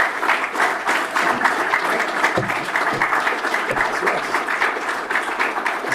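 Audience at an evening lecture bursting into warm, sustained applause, a dense, even patter of many hands clapping throughout at steady loudness.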